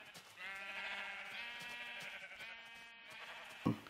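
Sheep in Minecraft on Xbox 360 bleat in a long, steady, nasal call that fades out at the end, followed by a soft in-game click, at low overall volume.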